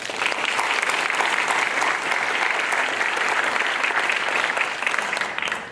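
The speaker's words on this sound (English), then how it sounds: "So let's give them a round of applause." An audience at a high school athletic hall of fame induction gives sustained, loud applause, many hands clapping evenly throughout with a light crowd murmur beneath.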